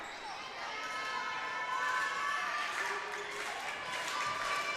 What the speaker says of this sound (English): We got the clapping going on for the Davies student section